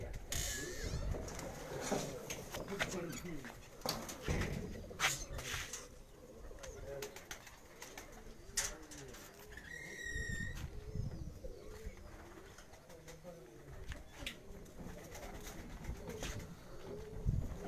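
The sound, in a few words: pigeons cooing and flapping on rooftop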